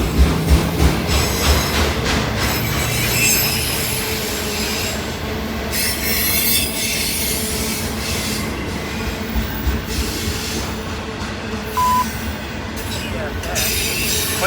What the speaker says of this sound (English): Locomotive just went across the defect detector.